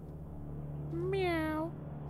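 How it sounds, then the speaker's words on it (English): In a horror video game, a cat gives one drawn-out meow, rising then falling, over a steady low electrical hum. "I guess we're gonna feed the cat first."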